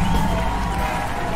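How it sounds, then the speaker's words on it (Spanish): Audience applause at a celebration at the Centro Cultural de España, a steady, dense wash of clapping with crowd noise that stays loud throughout the short stretch. "Mira, los aplausos."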